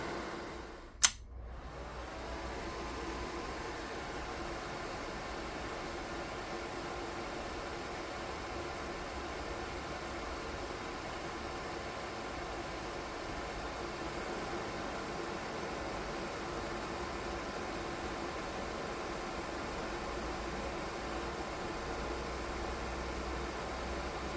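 A 3D-printed DIY soldering fume extractor fan runs at maximum power, a steady whooshing hum that holds without change after one brief click at the start.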